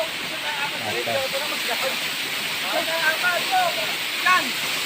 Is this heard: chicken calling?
no